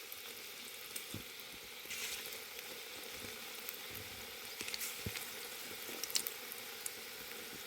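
Onion bhaji fry in hot oil in a wok over a wood-fired stove, a continuous soft sizzle with occasional pops and small clicks.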